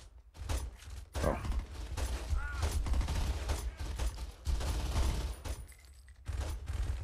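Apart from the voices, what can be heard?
gunfire in the video game Saints Row 2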